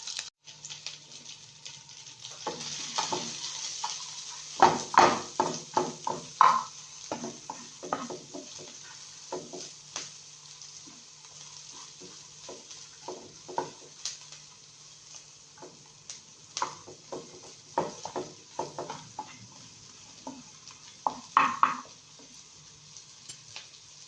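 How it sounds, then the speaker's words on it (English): Onion and garlic fry in a pan with a soft, steady sizzle, broken by frequent close clicks and scrapes of a utensil stirring, in quick bursts with short pauses between. "and we're frying."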